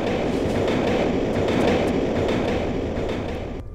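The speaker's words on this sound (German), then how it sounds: "Jetzt fährt eine U-Bahn lang" A subway train rolls past in Tomb Raider 3's underground level, a loud, steady, dense rumble with rail clatter that thins out at the very end; no voices.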